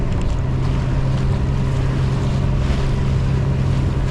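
Boat engine droning steadily at Cagban Port on Boracay Island, a loud continuous low hum mixed with wind and water noise, no voices.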